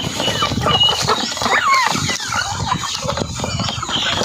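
Backyard chickens, including egg-laying hens, give short squawks and clucks amid steady rustling and farmyard noise, with one clearer rising call partway through. No one is speaking.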